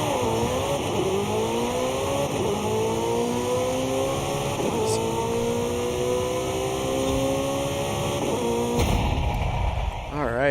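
A Porsche in a racing video game accelerates with a loud, steady engine drone, its pitch climbing through repeated gear shifts, and a brief burst of noise near the end.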